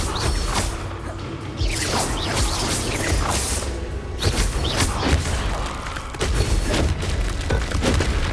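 Repeated Bombarda spell blasts from a Hogwarts Legacy duel, loud booming impacts with whooshes and crashes layered over dense battle noise, no voices.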